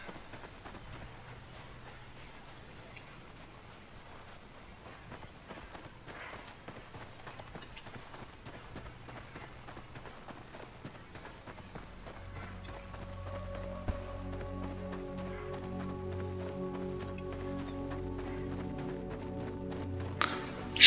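Horse hooves clip-clopping during riding in the fantasy video game Tainted Grail: Fall of Avalon, a soft, steady patter of rhythmic footfalls that grows louder toward the end as a tonal musical drone swells beneath it.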